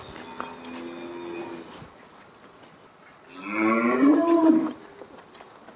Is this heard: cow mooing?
yes